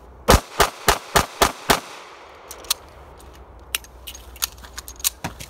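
Six rapid Avidity Arms PD10 pistol shots crack loudly and evenly at close range, followed by sparser distant pops and clicks from other shooting.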